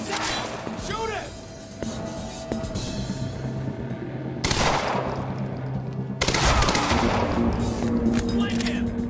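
Gunfire in the video game Quantum Break, sustained rapid bursts and fusillades of shots with loud cracks and impacts, dense and continuous across the whole stretch with brief shifts in intensity.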